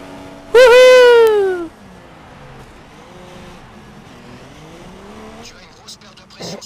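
Race car in the F1 2016 video game driving on a punctured tyre, its engine a steady low drone with wavering pitch, overlapped early by a loud shouted voice and light talk.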